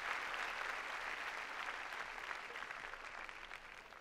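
Steady applause from a church congregation at a Sunday morning service, a dense even patter of clapping that holds at the same level throughout.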